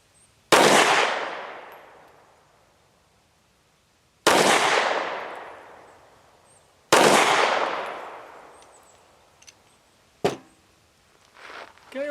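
Three loud, sharp gunshots from a Kel Tec P-15 with a backstrap installed, fired outdoors a few seconds apart. Each crack rolls off into a long fading echo, followed by a couple of smaller knocks and handling noises.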